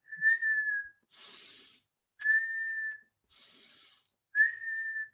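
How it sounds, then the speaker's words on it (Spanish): A person alternates sharp inhalations with steady whistles as a breathing exercise: three sustained single-pitch whistles, each about a second long, separated by two breathy inhales in a quiet room. "hacer solamente este ejercicio, inspirar y silbar"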